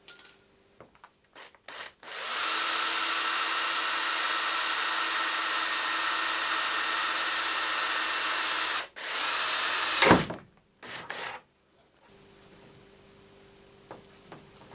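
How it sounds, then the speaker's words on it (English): A power drill whirs steadily for several seconds drilling bolt holes in a BMW E36 race car for aerocatches, stops briefly, then runs again in short bursts before falling quiet. "we can start to drill the holes for the actual bolts to go through"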